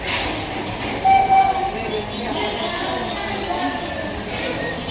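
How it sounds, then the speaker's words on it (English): Riding aboard the Wildlife Express train at Disney's Animal Kingdom, a steady rolling rumble of the carriages with a brief horn or whistle tone, heard from inside under nearby voices. "We just jumped on the train in Harambe and we're headed to Rafiki's Planet Watch."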